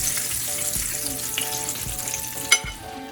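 Pork chops frying in a pan for smothered pork chops, giving a steady close sizzle with a brief sharp clatter near the end.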